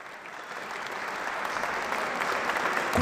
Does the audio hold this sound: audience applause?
yes